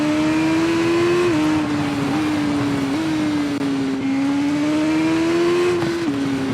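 A racing motorcycle in TT Isle of Man 2 howls at high revs along the course, its steady engine whine dipping briefly at a few gear changes, loud and continuous with no voices.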